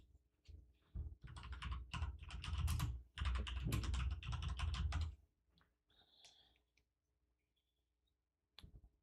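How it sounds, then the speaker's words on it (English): A computer keyboard typing on its own inside a pocket gives rapid, dense bursts of clicking keystrokes, then falls quiet before a short final flurry, with no voices. "I had my keyboard in my pocket and it typed itself."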